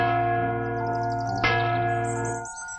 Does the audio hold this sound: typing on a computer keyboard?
no